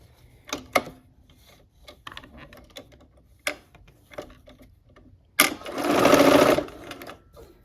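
A sewing machine stitching a quilt seam on a barn quilt sampler: scattered clicks and handling taps, then one loud, steady run of rapid stitching lasting about a second and a half.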